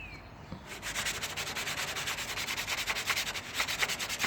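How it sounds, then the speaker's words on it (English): Rhythmic hand sanding of a 1957 Chevy car body, quick light back-and-forth scratchy strokes of sandpaper on a hard surface, close and steady. "You're lightly sanding it. You don't need to grind into it."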